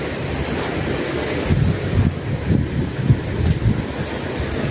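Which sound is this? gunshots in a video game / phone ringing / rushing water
rushing water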